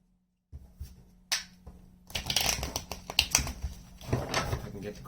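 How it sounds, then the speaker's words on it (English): A deck of tarot cards is shuffled by hand at close range: a few light taps and flicks at first, then a longer stretch of dense riffling and slapping cards. "If I can get the cards to shuffle."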